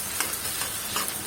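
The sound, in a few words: onions frying in oil with spices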